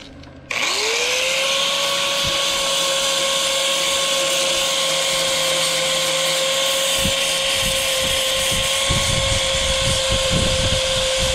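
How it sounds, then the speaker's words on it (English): Angle grinder cleaning up welds on a metal awning frame, spinning up sharply at the start and then running as a steady, loud, high-pitched whine with scraping grit noise throughout. "now we're gonna use the angle grinder and clean everything up"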